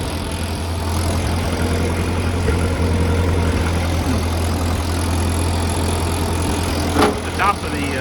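A Ford 8N tractor engine runs steadily at idle close by, a continuous low rumbling drone with a brief clank near the end.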